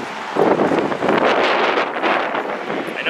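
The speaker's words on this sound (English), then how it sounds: "I know it's windy out, so I'll try to speak up here." Outdoor wind buffeting a microphone beside a white 2004 Chrysler Sebring convertible, a loud, continuous gusty roar that swells and fades over a few seconds, with no voice heard.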